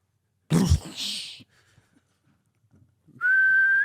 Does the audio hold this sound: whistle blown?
yes